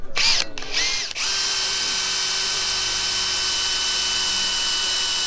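A power drill bores into metal with a water-based cutting lubricant, starting with a couple of short revving bursts before settling into a steady, loud whining drone that continues to the end.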